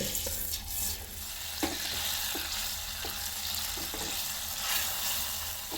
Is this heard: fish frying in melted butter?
yes